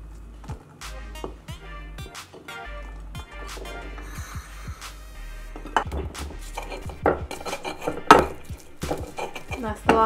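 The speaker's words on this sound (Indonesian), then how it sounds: "Di sini aku akan ngulek bawang merah, bawang putih," Shallots and garlic are ground by hand in a stone mortar, making close, uneven knocks and scraping thuds that grow louder and denser toward the end.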